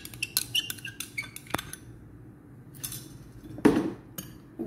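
Egg being mixed in a bowl with a utensil while making gulab jamun dough, giving a run of quick, sharp clinks and taps against the bowl, then a quieter pause and a louder scraping clatter near the end.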